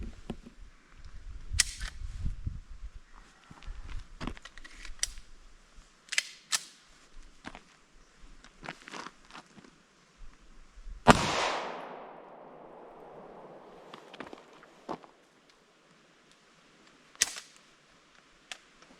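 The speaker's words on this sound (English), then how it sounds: "Let's see if I can make this more than a single shot, shall we?" Single gunshots from a gun fitted with a Promag magazine, sharp loud cracks spaced irregularly with one big ringing report midway that decays over a second or two, plus mechanical clicks.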